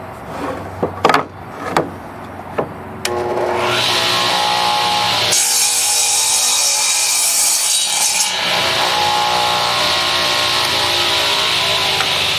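A power saw cuts through wood: a few sharp knocks and clicks first, then the blade bites in with a loud, sustained rasping whine that peaks in the middle of the cut and keeps going to the end.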